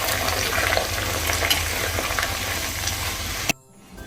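Onions being stirred in a hot pan for a Kerala-style lunch dish: a dense, steady sizzle and scraping that runs loud and close, then cuts off abruptly just before the end.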